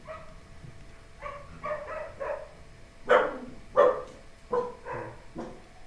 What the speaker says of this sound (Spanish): Pasaron un montón de perros por acá.